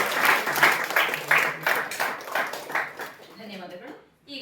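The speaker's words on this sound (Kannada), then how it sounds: "ನೀವೆಲ್ಲರೂ ಕೂಡ ವೇದಿಕೆಯಲ್ಲಿರೋರು ಚಪ್ಪಾಳೆಯನ್ನು ಕೊಡಿ" Applause from the audience at a college Basava Jayanti event in Ponnampet, Kodagu, swells into dense, steady clapping that fills the hall before tapering off near the end.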